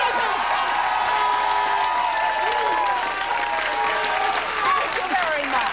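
A crowd applauds and cheers hairstylist Jose in a lively room, loud continuous clapping mixed with excited shouts and overlapping voices throughout.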